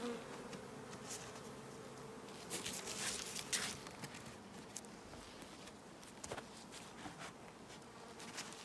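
Honey bees buzz steadily around beekeepers feeding pollen patties at the hive, a continuous insect drone with louder swells as bees fly close past, with no talking.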